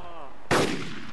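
A single sharp gunshot in the DayZ video game cracks out loud and close, a broadband burst after a low voice murmur, followed by a second shot starting at the very end.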